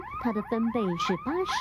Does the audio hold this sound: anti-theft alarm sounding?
yes